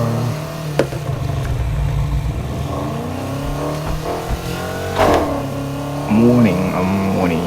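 A BMW M5 drift car in the racing game NFS Heat revs its engine, rising and falling in pitch with sharp surges and a louder burst near the end, while someone talks over it.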